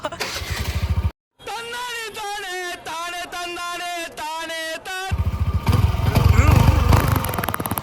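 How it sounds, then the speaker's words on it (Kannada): Kawasaki motorcycle engine being revved on a college campus, a series of rhythmic pulsing revs close by, followed by a rougher, louder idle with people talking nearby. "ಅಣ್ಣ ಕಾವಾಸಾಕಿ ತೆಗಿತಾವನೆ. ಅಲ್ಲ ಎಕ್ಸಾಕ್ಟ್ ಸೌಂಡ್ ಬಿಡ ಗೈಸ್"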